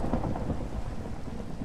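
Steady rain with rumbling thunder from a Minecraft game world, a dense continuous wash with low booming underneath and no voices.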